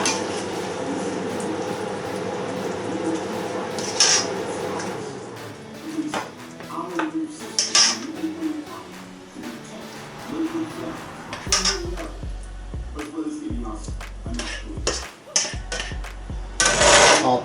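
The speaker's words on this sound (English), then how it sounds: "we can now plate up. And put it in a pasta bowl" Green Thai vegetable curry spooned into a pasta bowl, giving intermittent clinks and scrapes of utensil on crockery with soft wet squelches, close by, under steady background noise.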